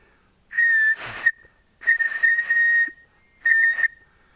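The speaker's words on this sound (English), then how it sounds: "So it's an emergency whistle." A 12-gauge survival kit emergency whistle gives three loud, shrill, steady blasts, each about a second long and separated by short pauses, with no other sound between them.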